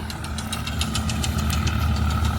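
A Swaraj 855 tractor engine runs steadily with a loud, low, throbbing diesel chug and a rapid knocking rhythm, working a straw-chopping machine.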